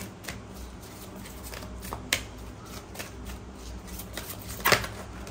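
Oracle cards are shuffled by hand, soft papery riffles and taps in a quiet room, with a few sharper slaps near the end and no speech.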